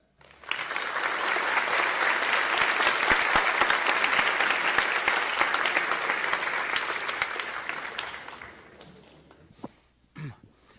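An audience at a Spanish-language free software lecture applauds to welcome Richard Stallman, a sustained burst of many hands clapping that swells quickly, holds for several seconds, then thins out into a few scattered claps and a cough.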